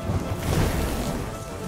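A raining-fire attack in the video game Thronebreaker: The Witcher Tales lands as a dense, steady roar of crashing, crackling impacts with a low rumble, loud throughout the short burst and without speech.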